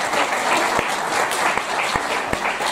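A theatre audience applauds steadily, a dense wash of clapping from many hands that holds at an even level throughout.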